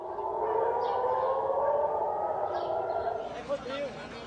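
Civil defense sirens wail across Jerusalem, a sustained rising and falling howl heard from a distance, steady at first and then fading as other faint sounds come through near the end.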